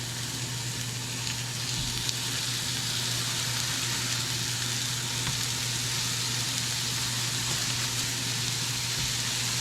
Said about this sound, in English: put the first batch of hamburgers in that we patted out. Listen to that sizzle.